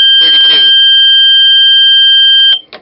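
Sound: alarm triggered by thermometer reaching 32 degrees Celsius

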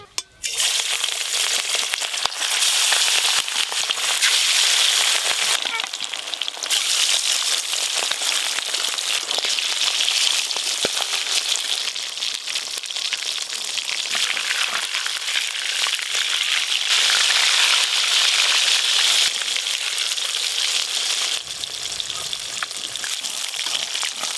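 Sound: fish frying in hot mustard oil

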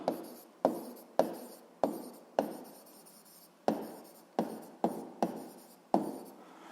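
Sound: writing down notes by hand

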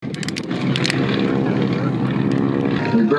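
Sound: Nanchang propeller aircraft flying at airshow

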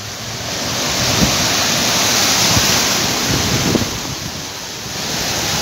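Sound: heavy rain in Cancún

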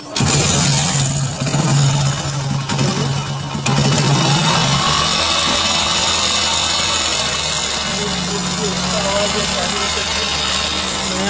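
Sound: Hero Splendor motorcycle engine started, timing chain noise

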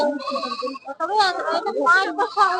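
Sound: goat bleating at a livestock market

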